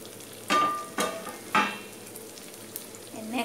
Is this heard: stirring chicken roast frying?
yes